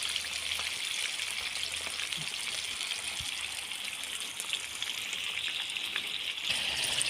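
Chicken liver sizzles steadily in a hot pan, a dense continuous crackle of frying with faint scattered pops, close and even throughout with no talking.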